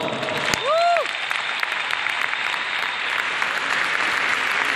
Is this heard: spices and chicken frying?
no